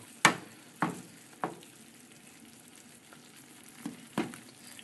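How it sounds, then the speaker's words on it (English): Tomato sauce with eggplant and tofu cooking on high heat in a pan, giving a steady bubbling sizzle with a few sharp spoon or spatula knocks spaced through it, close and fairly quiet. "So just go ahead and continue to boil down the tomato sauce, just like that"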